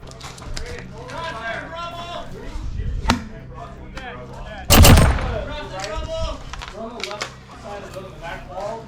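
Airsoft tag rounds bursting at a milsim game, heard as sharp bangs, one near 3 seconds and a louder, broader blast near 5 seconds, amid ongoing shouting and talk outdoors.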